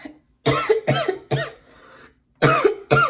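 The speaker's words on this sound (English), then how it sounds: "sorry for the bad cough" A person coughs several times in quick succession, a burst of three harsh coughs, a pause, then two more, close and clear.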